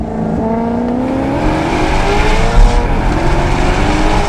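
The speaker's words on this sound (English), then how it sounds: "It literally sounds like a race car." A Maserati engine revs hard with a raspy, race-car-like roar, a steady loud run building in pitch with a brief louder surge midway.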